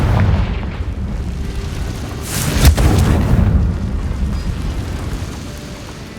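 A Confringo blasting spell exploding in the Hogwarts Legacy game: one sharp, bright burst rises out of a low, rumbling game backdrop, followed by a brief fading rumble.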